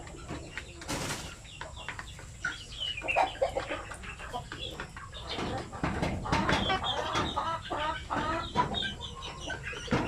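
Chickens cluck in a net enclosure, a busy stream of overlapping clucks with bursts of wing flapping, close and moderately loud, while people talk nearby.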